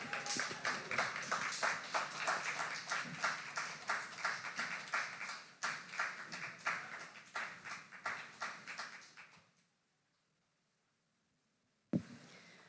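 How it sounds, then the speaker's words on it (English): Applause from a slam poetry audience at an anniversary event, dense rhythmic clapping that holds steady for about nine seconds, then thins and stops, followed by silence and one sharp knock near the end. "Give Dante another round of applause. Keep it going."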